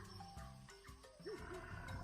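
A lion roars in a children's fable, a low growling roar that rises and falls over about two seconds, mixed with other sound effects and no talking.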